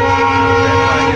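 A Tinsukia train crosses the Bogibeel bridge, its loud, sustained tonal horn sounding steadily throughout a brief moment with no voices.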